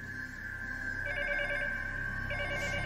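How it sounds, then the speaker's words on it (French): Telephone ringing on an unanswered call, heard from the caller's end: a steady tone with warbling ring bursts repeating twice, moderately loud, with no voices. "Je prends le téléphone, j'appelle Julie"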